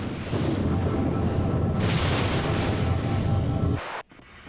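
A Soviet superweapon firing up in Red Alert 2, a loud, sustained roaring rumble that swells midway, then cuts off abruptly and leaves a faint low tail.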